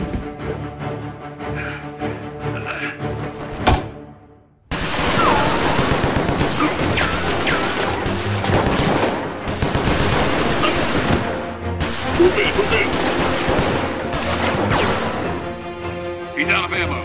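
Sustained rapid gunfire from an animated action battle roars loud and dense for many seconds, after a brief quieter stretch with a sharp shot, with bursts and booms blending into a continuous barrage that keeps going to the end.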